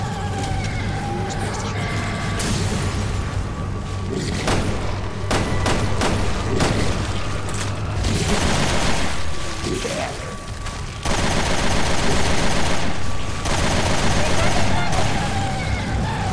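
Gunfire in the Resident Evil Revelations 2 video game, repeated sharp shots and bursts with booming impacts over a game soundtrack, someone talking in Spanish in between.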